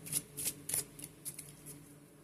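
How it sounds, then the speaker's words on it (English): Romance Angels oracle cards are shuffled by hand in short, soft riffling bursts, close and quiet, with brief pauses between them. "Go ahead and give these a quick shuffle as well."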